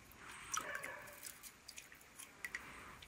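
Water dripping from a clogged, moss-choked fountain spout, a few small irregular drips and soft wet ticks close by over a quiet background.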